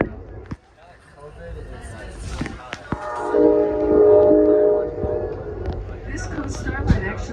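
A passing Amtrak Coast Starlight passenger train rumbles beneath a voice talking, and a sustained horn blast sounds in the middle, fairly loud and near.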